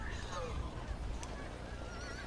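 A horse whinnies faintly amid a steady background ambience, with a low murmur of talk running underneath.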